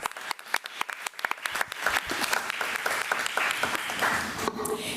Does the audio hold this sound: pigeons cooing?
no